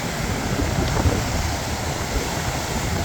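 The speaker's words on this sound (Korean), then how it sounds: "파도 소리가 굉장히 감미롭습니다." Ocean waves wash onto the beach at Nha Trang in the morning, a soft, continuous surf hiss with light wind, fairly quiet and with no voices.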